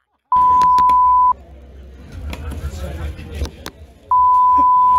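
A steady one-second censor beep, then people talking amid background noise, then the beep returns and holds through the end.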